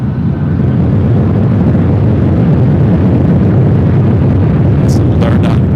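A Southwest airliner taking off at LAX gives a loud, steady, close jet roar that fills the whole stretch, with a few brief high tones near the end.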